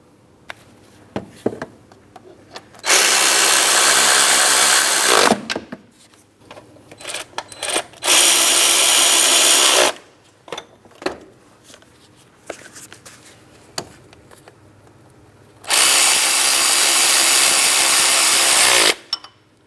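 A power tool driving 18mm-headed engine mounting bolts on a 2003-2007 Cadillac CTS 3.6L V6, in three loud sustained whirring bursts separated by clicks and handling noises, close up.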